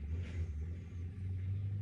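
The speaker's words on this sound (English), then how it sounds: "That's the first truck's gone by." A truck rolling past at night in coastal Veracruz, a low engine rumble heard from a distance that swells slightly and then holds steady, faint and alone.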